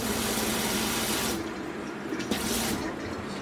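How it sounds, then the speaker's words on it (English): An RV's fresh water pump drives water through the plumbing, a steady rushing flow with a low motor hum, easing slightly partway through and staying constant with no talking. "The pump is on, and it's pumping from the fresh water. The fresh water pump is on,"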